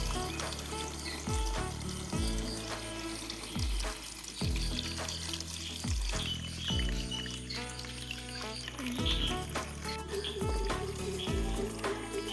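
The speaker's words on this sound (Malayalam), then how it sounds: "ഇതുപോലെ നമുക്ക് എല്ലാ ടബിലും വെള്ളം ഒഴിച്ചു കൊടുക്കാം." Water is poured into tubs for a lotus garden, heard as faint, repeated splashing and trickling pours in a steady rhythm, with no talking.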